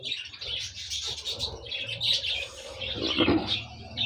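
Many young chicks chirp continuously inside a breeding box, a dense chorus of high, thin tweets that runs throughout without a break, with some soft lower cooing mixed underneath.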